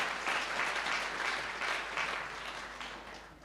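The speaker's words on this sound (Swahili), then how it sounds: "Pigeni makofi kwake." An audience at a church branch launch claps together in a steady, fairly faint round of applause lasting several seconds.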